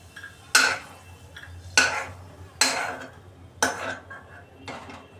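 A spoon scrapes and clinks against a bowl four times at an even pace while fried garlic is scooped out of oil; each knock is sharp and close, with quiet gaps between.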